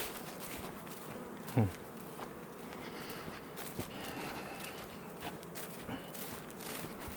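Bees hum around an opened beehive during an inspection, a soft continuous buzz close by with a few faint knocks and handling sounds, no talking.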